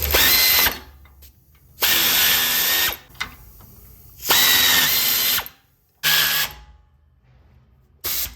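Power tool tightening bolts while installing a Firestone Ride Rite air bag on a 2007-2021 Toyota Tundra: loud, close whirring bursts of one to two seconds, four long runs and a short final one, separated by quiet gaps.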